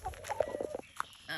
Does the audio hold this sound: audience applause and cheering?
no